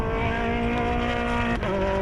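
A GT race car, one of a field that includes a Ferrari, howls past on a racing circuit, a loud, sustained engine note that dips sharply in pitch as it passes, with no talk.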